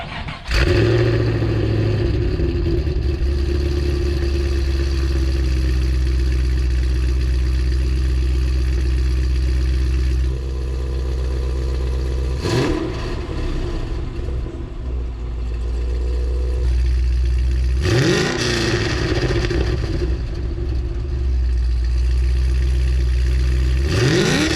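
A Chevy SS V8 fitted with ARH long tube headers idles with a deep, loud rumble and then revs sharply in two or three quick bursts, heard close from behind the car with no talking.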